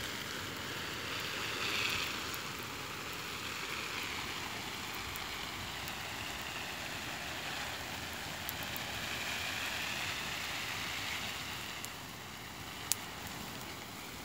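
Water pours steadily from a hose over a vegetable garden of pumpkins and melons on a hot day, a continuous broadband wash that holds fairly even throughout with no talk.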